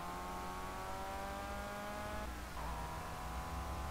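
Race car engine in the Project Cars racing game on the Monza circuit, a steady loud drone with a gear shift and brief dip partway through, no talk.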